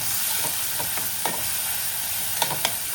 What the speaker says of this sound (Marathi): आपल्याला ही पेस्ट मस्त थोडीशी हलकी परतून घ्यायचं आहे